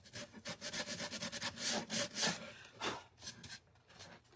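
The edges of a wooden cutting board are sanded by hand in quick, irregular scratchy strokes, soft and close, a dozen or so rubbing passes with brief pauses and no voices.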